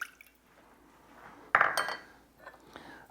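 A half cup of water goes into a pan to start a small pickle brine: quiet handling, then a short burst of splashing and trickling liquid that fades into light dripping, close and soft.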